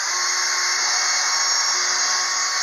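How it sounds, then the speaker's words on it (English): A power drill pre-drills a few holes in wood while a foldable work table is built, a steady whine running close and unbroken with no pauses or talk. "just go ahead and pre-drill a few holes for this"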